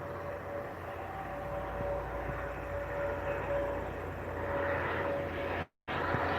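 Steady broadband engine roar of an airplane passing overhead, loud and continuous, with a faint high whine and a brief dropout near the end.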